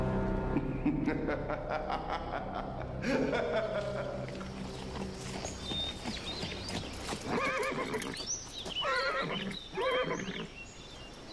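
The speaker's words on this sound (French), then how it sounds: "Ce sont nos chevaux?" Several horses neigh and whinny in repeated high, shaky calls, mixed with hoof clip-clops and snorting, fairly close and prominent.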